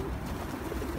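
A pigeon cooing outdoors, soft low cooing blended into a dense, steady background noise.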